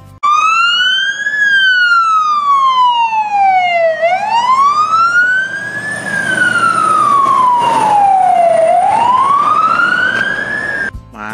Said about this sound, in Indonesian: lihat teman, ada truk damkar